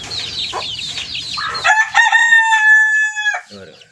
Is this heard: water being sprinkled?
no